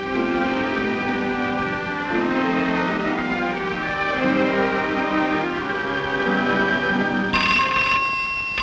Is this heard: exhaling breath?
no